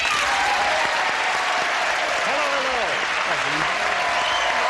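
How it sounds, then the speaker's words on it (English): A 1984 Match Game–Hollywood Squares Hour studio audience gives brisk, continuous applause to welcome two game show players, with a voice speaking faintly under the clapping. "let's welcome our two players over here with a brisk round of applause"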